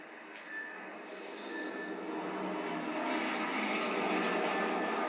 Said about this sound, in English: you got a plane flying over you